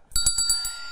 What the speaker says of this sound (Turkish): Zilimizi çaldık.